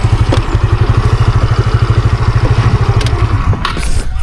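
Motorcycle engine idling while being parked, a close, loud rhythmic putter with steady pulses, ending in a few clattering knocks and scrapes near the end.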